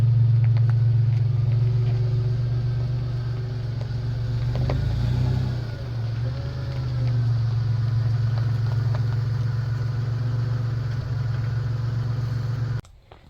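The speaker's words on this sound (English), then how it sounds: "So what's nice is I can just drive my truck pretty much right in the barn" A pickup truck rolls slowly into a barn, its engine giving a loud, steady low rumble and hum throughout before cutting off abruptly at the end.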